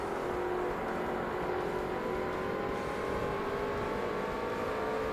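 A BMW M3 GTS race car engine in the Forza Motorsport racing game wails continuously at high revs, a steady loud whining drone with no pauses and no voices.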